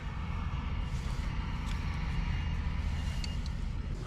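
Cat D6 bulldozer diesel engine idling at a landfill, a steady low rumble with a constant droning hum, close and unbroken throughout.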